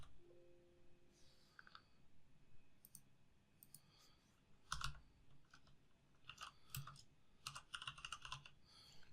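Someone types on a computer keyboard while entering values into an Excel spreadsheet, producing quiet, close clicks in short irregular bursts with small gaps, and a faint brief tone near the start.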